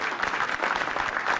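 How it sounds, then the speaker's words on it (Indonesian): A studio audience claps at a stand-up comedy show on Metro TV, giving a brief, dense burst of steady applause from a crowd. "Tepuk tangan dong."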